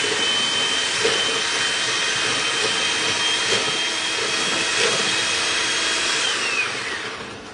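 An electric mixer beats cold milk and pudding mix as a steady, loud whir that holds level for several seconds and then begins to tail off at the end.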